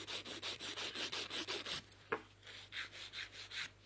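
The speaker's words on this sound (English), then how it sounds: "And then this nail's ready for filing." A nail file rasps across a short fingernail in a steady run of quick, even back-and-forth strokes, close and fairly loud, with a brief pause and a sharp tap before the rhythmic filing resumes.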